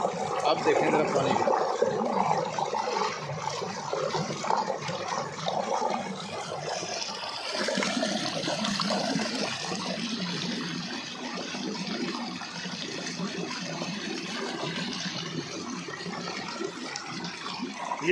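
Water pours hard and steadily from the pipe of a small turbine system set behind a little petrol pump, a broad continuous gush that stays loud and close throughout.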